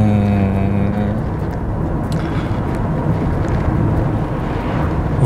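Toyota Camry cruising gently in a calm drive mode, a steady low engine and road rumble with wind noise, heard from inside the cabin and continuous throughout.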